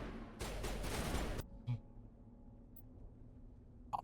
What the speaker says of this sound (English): We need to adjust the volume on the gunfire.